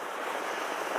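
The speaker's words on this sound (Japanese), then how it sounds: "ただね、波荒いんだよね、今日ね。" Rough surf pounding a sandy Japanese beach used for flounder fishing gives a loud, continuous roar of breaking waves, with some wind buffeting and no voices.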